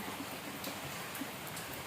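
Heavy rain pours down steadily in Kakinada, a dense, even hiss of water striking surfaces with occasional louder splashes, no voices.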